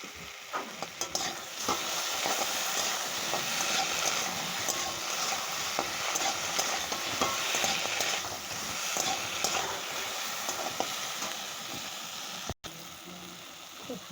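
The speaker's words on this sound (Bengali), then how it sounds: "এবার লঙ্কা আর আদা বাটাটা দিয়ে দেবো।" Chili and ginger paste frying in a pan, a steady dense sizzle with frequent stirring scrapes throughout, fairly close and continuous, with a brief dropout near the end.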